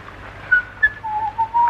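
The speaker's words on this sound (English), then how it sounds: "Oh, do stop whistling." A person whistles a short, wavering tune, soft notes rising and falling against quiet background.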